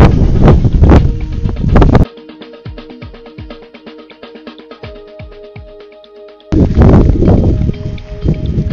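Strong wind buffets the microphone outdoors near Llyn Llydaw on Snowdon, loud roaring gusts filling the start and end, with a calmer stretch in the middle.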